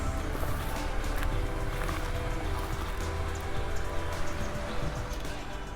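Rain falls steadily over a vegetable garden bed, a close, busy patter of drops striking surfaces with scattered louder splashes.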